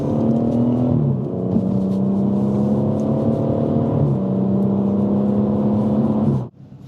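A BMW M140i engine pulls steadily under acceleration as boost builds, a loud, close, even drone. The tone dips briefly, then carries on before cutting off sharply at the end.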